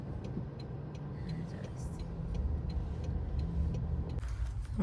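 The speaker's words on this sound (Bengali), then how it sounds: "আমরা গাড়িটা এখানে পার্ক করলাম।" A car drives and comes to a stop to park in a small town outside Toronto, a steady low engine and road rumble running throughout and ending in a brief louder shift.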